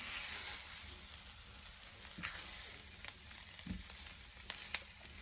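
Onions frying in a pan give a steady, close sizzle and crackle throughout, with a few faint clicks and pops scattered over the hiss.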